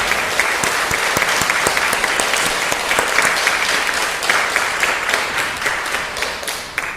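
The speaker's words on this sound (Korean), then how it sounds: "우리가 박수로 환영해" A church congregation at a Korean anniversary Sunday service claps loudly and continuously in welcome, a thick, even wash of many hands that tapers slightly near the end.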